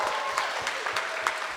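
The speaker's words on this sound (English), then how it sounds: "Let's give them a round of applause to everyone that's helped" A crowd claps steadily at a wedding reception during the speeches, a dense patter of hands from a room of people, fairly close and even throughout.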